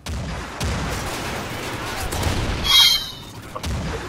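Rocket fire and gunfire in a first-person shooter video game, a sustained rumble of booms and shots with a sharper blast near the end, and a voice talking underneath.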